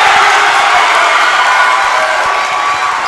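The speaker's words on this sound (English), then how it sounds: "As you can hear, the crowd goes wild as they try to make that shot" A packed crowd at a high school girls' basketball game roars as a shot goes up, a dense, loud, sustained wall of cheering and shouting with no break.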